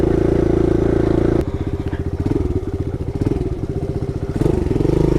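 A 2021 Kawasaki KLX110L and a Yamaha TTR50 pit bike ride along an overgrown trail, small single-cylinder engines buzzing steadily and close, with a rapid throttling chatter in the middle as the revs change.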